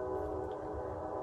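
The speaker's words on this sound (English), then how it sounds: "Trains in the background." A train rumbles steadily in the background near a backyard, a brief low continuous drone with faint tonal hum, heard without speech.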